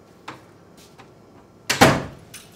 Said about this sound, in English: We just shut the door.